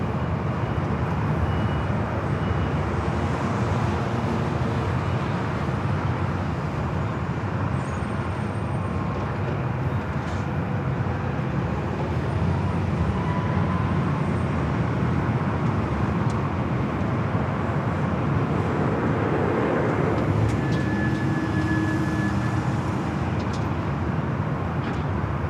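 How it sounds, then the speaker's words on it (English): A Southwest Airlines Boeing 737 MAX 8 bound for Denver takes off from Los Angeles International Airport, a steady broadband engine roar that holds loud throughout and swells slightly near the end. "This is Southwest Airlines flight 3261, heading to Denver on a 737 at MAX 8"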